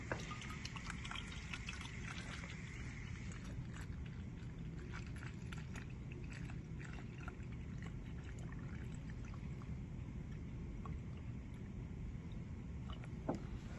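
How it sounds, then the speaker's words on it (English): Water poured into the top reservoir of a core saturation apparatus, a faint, steady trickle and splash running quietly throughout with no talking. "Then we'll go ahead and we'll fill up our reservoir here at the top with water."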